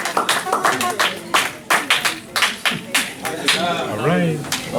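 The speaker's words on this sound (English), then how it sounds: "We need to give them a round of applause." Congregation applauding young participants at a Shabbat afternoon service; irregular bursts of nearby hand claps mixed with cheering voices and talk, ending as a voice speaks over fading claps.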